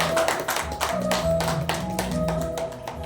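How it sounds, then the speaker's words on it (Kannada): An audience claps at an award ceremony during a singing festival in Bengaluru, with brisk, uneven applause over faint background tones. "ಎಲ್ಲರೂ ಚಪ್ಪಾಳೆ ಹೊಡೆದ್ರೆ ತುಂಬ ಖುಷಿ ಆಗುತ್ತೆ"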